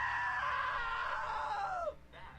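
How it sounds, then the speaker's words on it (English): A long, shrill scream from a character in What Remains of Edith Finch, loud and close, holding steady before sliding downward and cutting off, followed by a brief quieter cry. "Now that was a great scream."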